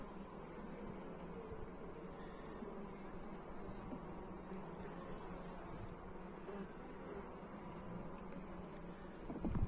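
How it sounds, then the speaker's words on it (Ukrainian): A steady, close buzzing of many calm bees at a hive, droning continuously without pause and growing slightly louder at the very end. "Дуже спокійні бджоли."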